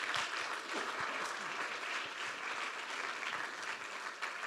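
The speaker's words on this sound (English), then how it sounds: "So a big round of applause for Pauline." An audience at a fisheries and aquaculture session claps in steady, dense applause that fills the room and carries on evenly without a break.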